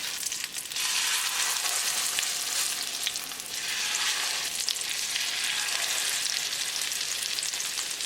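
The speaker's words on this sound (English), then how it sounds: "In the same oil, we're going to place the other patties." Lamb chapli kebab patties sizzle steadily in hot oil, a loud continuous crackling hiss that swells and settles over several seconds, with no voices.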